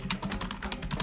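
Rapid clatter of keys on a computer keyboard, a quick burst of close, steady keystrokes with no voices.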